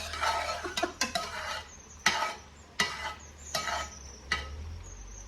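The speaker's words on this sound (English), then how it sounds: "I'll give that a stir." Beef curry being stirred in a pot: repeated scraping and swishing strokes with a few sharp utensil knocks against the pot, close and fairly loud, over a low steady hum.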